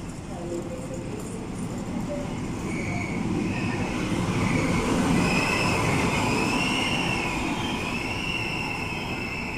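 A Melbourne train rumbles and hisses along the platform at Cootamundra station, wheels faintly squealing at high pitch, with a public-address voice speaking over the steady noise.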